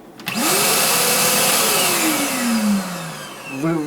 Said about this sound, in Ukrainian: автоматичне очищення тут включається після виключення на 5-10 секунд пилососа